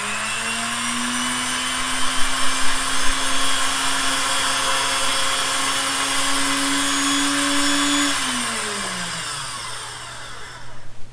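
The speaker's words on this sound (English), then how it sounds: "I'm going to use my automatic fabric advance to do that." The motorized fabric advance on a longarm quilting machine whirs steadily up close, a smooth mechanical drone that holds pitch and then winds down near the end as the rolling stops.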